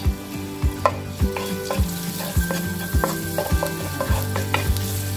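Garlic cloves fry in about a tablespoon of oil in a pan for Korean fried chicken. A steady sizzle carries repeated sharp taps and scrapes, roughly one every half second, close and fairly loud.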